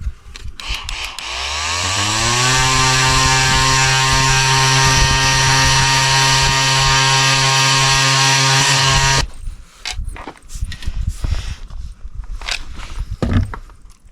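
A power sander on wood spins up and runs as a loud, steady motor whine with a strong buzzing tone for several seconds, then cuts off, leaving scattered clatter and handling noises.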